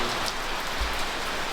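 Steady rain pours onto an overhang outdoors, a dense, even hiss of drops close by, with a brief low rumble partway through and no voices.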